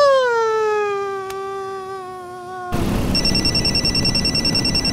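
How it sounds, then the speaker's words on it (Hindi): A phone rings with a sustained electronic tone, then switches to a pulsing, warbling ringtone that repeats rapidly, loud and close. "जरा फोन निकाल कर देख किसका है"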